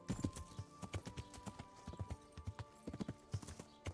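Horse hooves clip-clop steadily in Kingdom Come: Deliverance, a close, even gallop-like rhythm of many sharp hoof strikes with faint whinny-like tones, alone without talk.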